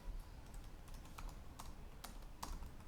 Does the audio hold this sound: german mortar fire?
no